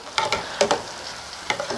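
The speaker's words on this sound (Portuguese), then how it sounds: "E fritando, eles ficam com uma cor muito vibrante." Pork pieces fry in oil for Japanese sweet and sour pork, a soft continuous sizzle broken by several short bursts as the pieces are stirred, with no talking.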